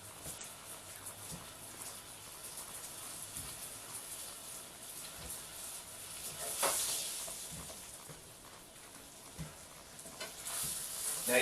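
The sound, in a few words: beef roulades browning in a pan over medium heat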